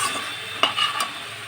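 Onions frying in a pan, well softened, with the lid lifted and a brief stir: steady sizzle throughout, broken by a short scrape and clatter midway, with no talking.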